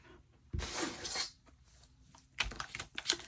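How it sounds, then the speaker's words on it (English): Material torn off a piece by hand, heard as two rough ripping bursts: a longer one early and a shorter, crackly one near the end, separated by a quiet pause. "I think what I'm going to do first is tear this bottom off"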